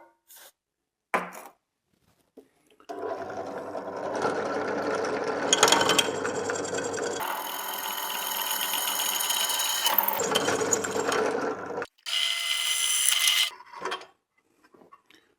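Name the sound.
drilling holes with a drill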